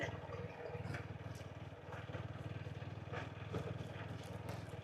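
A motorbike rides across the sandy bed of the Turag River in Gazipur, its engine droning steadily and close throughout with a rough, even pulse.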